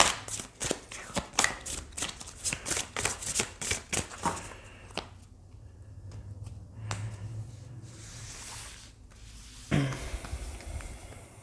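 Power of Love tarot cards are shuffled in quick riffling bursts, a rapid run of crisp slaps that stops, followed by a quiet stretch and one last short shuffle near the end.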